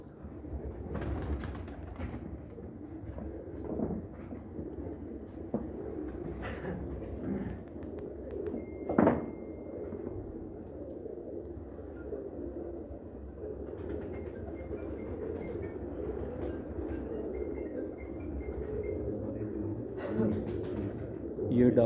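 Domestic dub-type fancy pigeons cooing in a home loft, a steady low murmur of soft coos running through the whole stretch, close by, with faint voices and background noise.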